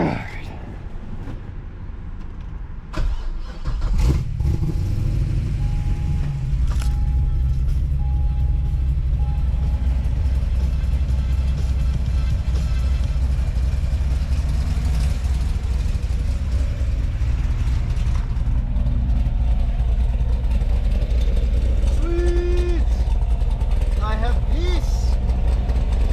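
A Corvette Z06 fitted with a new exhaust fires up with a brief burst and then settles into a steady, deep, loud idle rumble that runs on evenly, with people talking over it.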